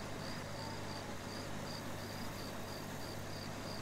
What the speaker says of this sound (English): You can tell it's getting late because you can hear the night sounds like the crickets.